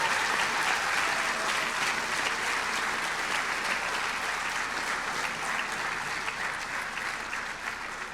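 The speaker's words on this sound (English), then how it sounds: "just give a round of applause to Bob Jones" Sustained audience applause at the AMC Hall of Fame induction, a loud, dense roar of many hands clapping steadily with no break, easing slightly toward the end.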